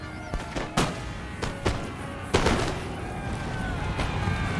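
A volley of sharp gunshot cracks from a Total War video game Battle of Waterloo, several spaced bursts of musket fire followed by a denser rumble of continuous fire, with a faint murmur of battle noise underneath.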